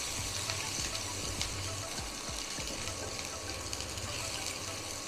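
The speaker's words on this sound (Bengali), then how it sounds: "পেঁয়াজটা একটু ভেজে নেবো।" Chopped onion frying in mustard oil with cumin, a steady close sizzle and crackle running throughout with a few soft low thumps, no talking.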